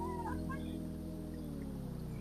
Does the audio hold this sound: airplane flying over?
no